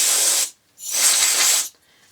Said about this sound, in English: give it a quick squirt with my canned air